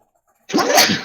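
A single sharp sneeze bursts out after a short silence, loud and close, with a breathy spray trailing off.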